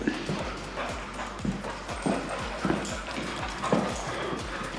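A dog near a villa in Greece barks and whimpers in a steady string of short, repeated yelps, fairly close, over a constant background hum.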